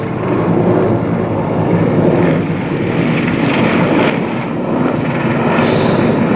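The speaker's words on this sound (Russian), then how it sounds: "А вот вертолет" A large helicopter passes overhead with a loud, broad engine roar and rotor-like rumble, mixed with wind buffeting across the microphone.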